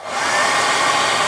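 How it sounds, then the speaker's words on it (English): A handheld hairdryer runs at a steady, loud, close whoosh of blown air and motor hum for the whole moment, with no one speaking. "you're probably wondering what I've got a hairdryer for"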